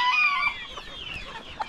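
Chickens and roosters in a coop, with close, loud clucking and squawking calls at the start, then softer overlapping clucks and scratching from the flock.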